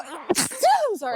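A single quick sneeze bursts out during a podcast conversation, followed at once by a person speaking.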